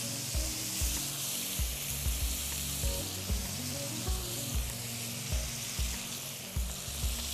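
Asparagus sizzles in a pan next to crispy hake fillets, a steady close frying hiss broken by soft regular knocks as the food is stirred.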